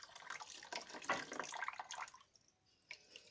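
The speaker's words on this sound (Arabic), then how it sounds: "فدلوقتي انا هدلق ميه وهوريكم الميه نازله شكلها ايه." Water poured through a refrigerator drain hose, a soft gurgling splash of flowing and trickling water heard close and fairly quiet, tapering to a few drips before one last brief splash.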